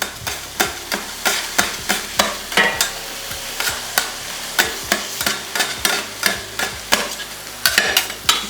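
Chicken frying on a flat top griddle as a spatula chops and breaks it up, a steady sizzle under rhythmic, sharp metal clacks striking roughly twice a second, close and loud, no talking.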